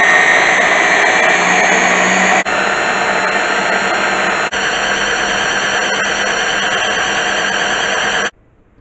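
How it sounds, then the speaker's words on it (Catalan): A blender grinds almonds into a paste, a loud continuous high-pitched whirring motor that runs steadily with brief dips in pitch, then cuts off abruptly near the end. "Anirem picant fins que es faci una pasta."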